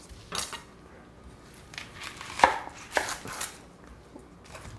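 A knife chops through one big onion on a board. Several sharp, irregular cuts come close together, with a few louder knocks, and no one speaks.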